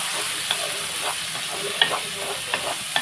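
Onions fry in a pan with a steady, hissing sizzle, while a spoon scrapes through them in intermittent stirring strokes, close up and with no talking.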